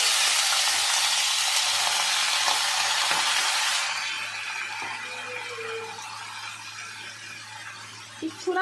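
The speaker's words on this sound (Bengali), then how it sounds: "কেটে রাখা বাঁধাকপিটা এখন কড়াইতে চলে গেল।" Chopped cabbage hits hot oil seasoned with five-spice in a wok and sizzles loudly at first, then settles into a softer, steady frying hiss with faint stirring scrapes near the end.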